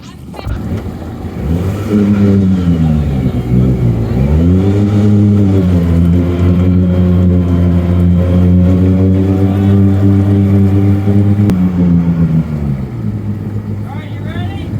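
A Honda YXZ1000R side-by-side engine held at loud, sustained revs while pushing through a deep canal at night, the pitch dipping and rising with throttle as people shout directions nearby.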